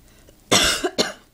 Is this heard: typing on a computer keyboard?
no